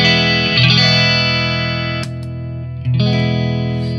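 Electric guitar played through a prototype high-frequency boost pedal, a sustained distorted chord with bright upper harmonics, re-struck twice with the treble swelling and fading, loud and close with no talking.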